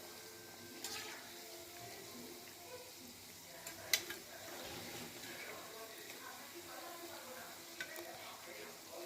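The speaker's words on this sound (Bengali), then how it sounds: "এরপরে এই যে তেলে সেগুলোকে ভাজছি।" Biscuit dough pieces frying in oil give a quiet, soft sizzle with occasional sharper crackles and spatters, faint and continuous over the whole stretch.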